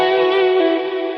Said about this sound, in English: what I'm doing is adding in quite a bit of reverb